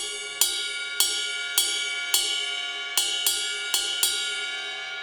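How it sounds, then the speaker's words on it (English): The bell of a ride cymbal is struck with the shoulder of a drumstick, giving eight bright, full pings, each ringing on with a long sustain, spaced unevenly at close range with no talking. "playing the bell, which I generally do with the shoulder of the stick."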